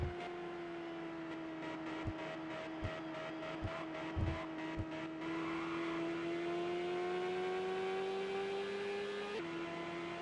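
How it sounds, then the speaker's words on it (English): A video-game IndyCar race car engine holds a loud, steady droning note that slowly climbs in pitch as the throttle is eased on, with a few sharp clicks early on and no talking. "Now easy on that throttle pedal. Don't spin."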